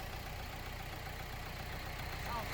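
A Toyota Hilux engine idles steadily with a low, even rumble, continuous and close throughout, no voices.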